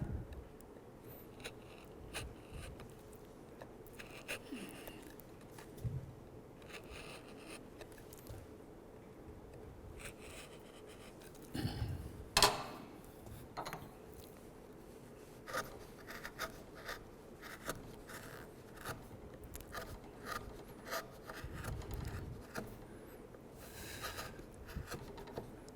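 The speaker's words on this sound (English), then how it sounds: "Again, use the straight knife." A straight knife carves a wooden shell, with soft, quiet scraping and shaving strokes repeated at an irregular pace over a low background hum and an occasional louder knock.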